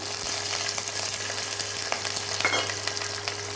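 Onion, garlic, ginger and green chillies with cumin fry in oil for a rice vegetable dish, giving a steady close sizzle with occasional stirring scrapes and no talk.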